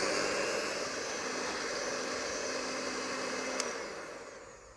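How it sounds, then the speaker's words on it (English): A Breville electric hand whisk whirs steadily while beating a coffee and vanilla mixture, a loud close motor drone with a faint tone that holds, then winds down near the end with a single click, no talking. "Now I'm going to whisk it up with my Breville hand whisk"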